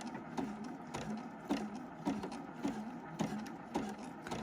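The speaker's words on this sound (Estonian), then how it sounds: "hoian niidi sabadest ka kinni ja lihtsalt õmblen" Juki F600 sewing machine stitching a 2 cm wide elastic band, a steady run of rhythmic mechanical clicks and thumps pulsing about twice per second, moderately quiet and close, with no talking.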